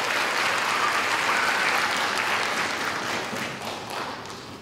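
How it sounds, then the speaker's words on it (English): Applause at a technical college graduation ceremony for scholarship winners and partners, a broad sustained clapping from a large crowd in a hall that gradually tapers toward the end. "Another round of applause for our partners at PHSC and for our scholarship winners."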